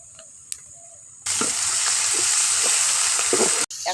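Ginger garlic paste hits a hot pan and bursts into loud, steady sizzling and frying that holds for a few seconds before cutting off briefly, after a quiet moment with a small clink.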